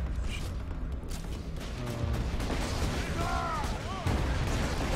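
Gunfire in Borderlands 2: steady, dense rattling shots and booms go on throughout a busy firefight, with whooshing weapon effects partway through and a voice talking over the noise.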